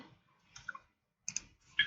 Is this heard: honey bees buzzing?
no